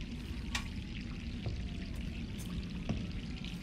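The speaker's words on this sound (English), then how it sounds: "Why is the water on?" Water running from a tap in a bathroom in the video game Resident Evil 3, a soft continuous hiss and splash under a low ambient rumble, with a few faint drips and clicks scattered through.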